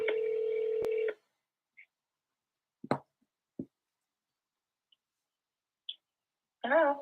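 A phone placing an outbound cold call: a loud steady tone, then sparse scattered clicks and soft taps through near silence, with a brief burst of tonal sound at the end.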